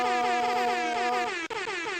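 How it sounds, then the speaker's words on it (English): A loud, blaring air horn sounds continuously with a fluttering, wavering pitch, briefly dropping out near the end before resuming. "Air horns unlimited"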